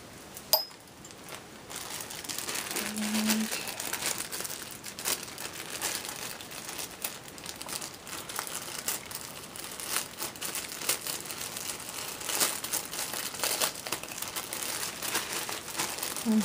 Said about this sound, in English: I'm sorry for all the crinkling